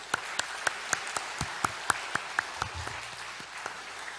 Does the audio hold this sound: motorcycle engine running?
no